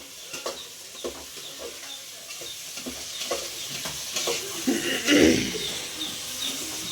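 Food fries in a pan during biryani cooking, a continuous close sizzle with repeated scraping stir strokes and a louder burst of spattering near the end.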